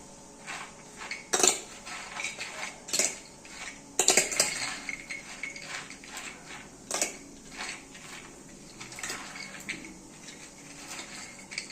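Sprouts being mixed with lemon and salt in a bowl, with a spoon clinking and scraping against the dish in irregular bursts, close up, and no voices.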